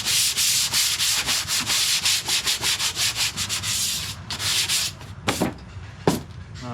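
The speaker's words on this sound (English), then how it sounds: "where I'm going to be fiberglassing things in, lightly scuff up the surface." Hand sanding to lightly scuff the body surface of an SVT Cobra before fiberglassing, a steady run of rapid back-and-forth rasping strokes, close and loud, thinning to a few separate scrapes near the end.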